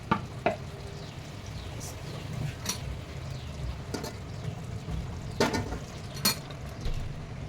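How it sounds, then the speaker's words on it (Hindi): Dal goes into a cooking pot of spiced dalcha and gets stirred, with soft sizzling underneath and a few scattered scrapes and clinks of a spoon against the pot. "अब हम इसमें दाल डाल के थोड़ी देर और पकाएंगे।"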